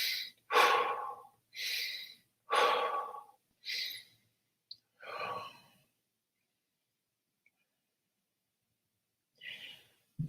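Slow, deep breaths during a neck and shoulder tension exercise, five loud breathy exhales in a steady rhythm close to the mic, then a long silence and one softer breath near the end.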